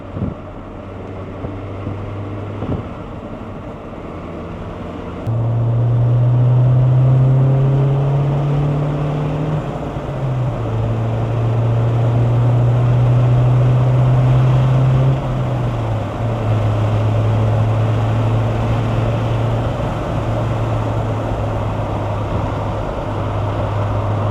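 A 1989 Honda CRX Si fitted with an RSR exhaust system drives past, its engine droning steadily and loud with gear-change pitch steps and a rising, then settling note, no voices over it.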